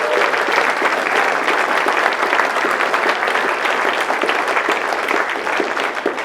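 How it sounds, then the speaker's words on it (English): An audience at a political event applauds with steady, dense clapping that holds at a constant level throughout, with a few faint voices underneath. "Let's give everybody an amazing round of applause."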